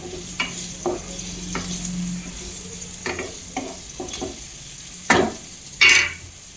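Green chillies fry in oil for a Gujarati corn chevdo, giving a steady close sizzle broken by several sharp stirring scrapes, the last two loud near the end.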